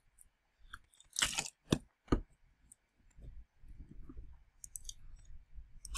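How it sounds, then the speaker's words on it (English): Crisps being eaten close up in a quiet room, sharp crunchy bites followed by softer irregular chewing and a few small clicks. "I'm eating crisps"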